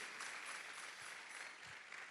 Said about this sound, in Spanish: Más fuerte el aplauso.